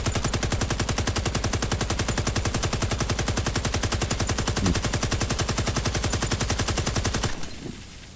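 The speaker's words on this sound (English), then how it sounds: "Don't ever overheat your gun." Sustained automatic gunfire from a weapon in the online shooter Warface, a loud, rapid, unbroken stream of shots held for about seven seconds until the gun overheats and cuts out abruptly, leaving a brief quiet tail.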